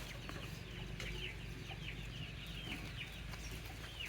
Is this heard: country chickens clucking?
yes